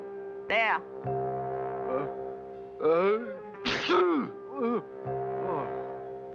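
A person lets out several loud, exaggerated sneezes in bursts over a steady droning tone, and a voice speaks a single brief word between them.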